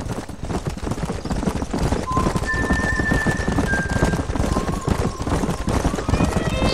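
Horses gallop in the Western video game Red Dead Redemption during a moonlit ride, with steady, dense hoof clip-clop throughout, an occasional whinny, and faint sustained tones and voices underneath.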